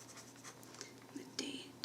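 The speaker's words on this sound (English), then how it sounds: "Let me just write the time," Pen scratching soft strokes onto a paper form, close and quiet, in short uneven scribbles with a soft whisper-like voice partly over it.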